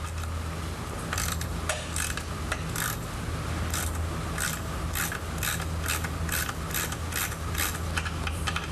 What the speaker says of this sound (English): The nut should be turned down until approximately 1/2 inch of the shaft protrudes out of the